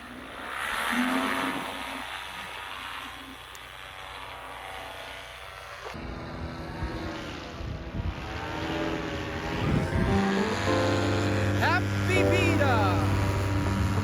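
A small propeller aircraft takes off during a birthday celebration, its engine drone steady and moderately loud under crowd talk, with a brief change midway and people chatting over the engine noise.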